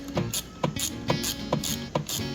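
A ratchet tightens a battery terminal clamp on a 2018 Mini F57, clicking in six even, close strokes with a brisk mechanical rhythm and no talk.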